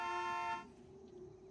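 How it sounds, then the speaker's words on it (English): Vehicle horn in the video game Satisfactory, a single loud steady honk lasting about half a second, then cut off, leaving a low engine hum. "I can actively honk"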